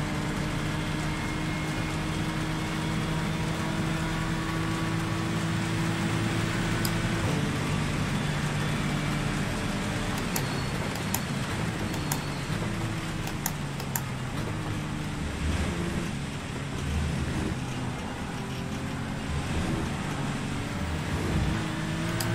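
Race car engine drones steadily in the iRacing sim during a wet-weather session, with shifts in pitch and a constant hiss of rain spray behind it, plus occasional faint clicks.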